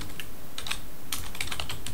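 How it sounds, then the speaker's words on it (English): Quick clicks on a computer keyboard as the word PayPal is typed into a browser, two short bursts of crisp, close, fairly loud keystrokes with a brief pause between them and no speech. "and I type in PayPal,"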